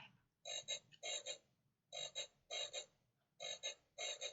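A motion-activated electronic toy frog croaks in short paired bursts, repeating in a steady rhythm, close and clear against a quiet room.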